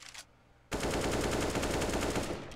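Sustained automatic gunfire in Counter-Strike on the Mirage map during an eUnited versus dignitas match, a dense loud burst that starts abruptly after a brief quiet moment and holds steady to the end.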